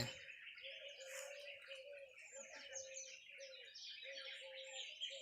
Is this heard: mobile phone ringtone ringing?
no